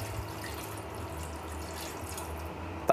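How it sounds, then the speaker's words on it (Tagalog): Water pours steadily into a cooking pot holding pork hock (pata) for a Filipino braised dish, a continuous close splashing wash lasting the whole moment, with a small clink at the end. "Lagyan na natin ng tubig."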